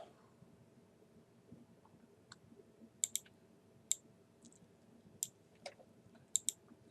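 A computer mouse clicks while a plot is copied and pasted in Excel, a handful of sharp, quiet clicks, some in quick pairs, over a faint low background hum.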